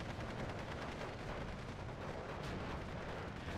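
A rocket fired by a unit in the Steel Division 2 real-time war game comes through as a dense, continuous roar of battle noise with blasts and gunfire blending together, moderately loud and with no speech.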